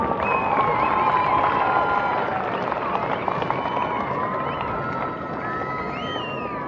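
A festival crowd in Bagh applauds and cheers an army regiment's horse riders after a vaulting display on an open ground. The dense clapping and crowd noise run steadily throughout, with a faint voice mixed in.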